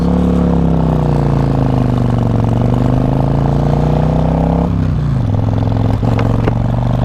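A 2014 Harley-Davidson Breakout FXSB on a test ride gives a loud, steady, deep V-twin drone, close up, with a gear change and drop in revs partway through.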